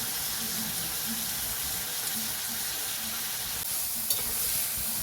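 Potatoes frying in a pan with turmeric and salt, a steady close sizzle that holds for the whole stretch, with faint stirring scrapes and no talk.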